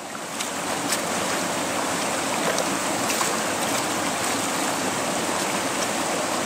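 Tubes of a 3-foot River Bed Hog are dunked and rinsed in water, making a continuous, loud rushing and splashing wash that holds steady from start to finish with no voices.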